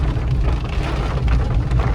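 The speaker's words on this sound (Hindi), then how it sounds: "हम यहाँ अपने बारिश के मज़े अपनी गाड़ी से एंजॉय कर रहे हैं, व्यू बारिश का" Steady rain falling on a car parked on a road through dense forest near Mahabaleshwar, a continuous close hiss of drops with heavy low rumble, no voices.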